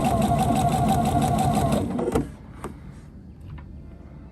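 A sewing machine stitches fabric for a tree skirt in a steady fast whir for about two seconds, then stops, leaving a few soft clicks and handling noises close by.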